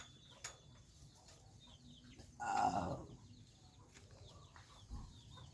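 Free-range chickens cluck softly in the background of an outdoor yard, and a louder rooster call rises briefly in the middle before the scene settles back to faint clucking.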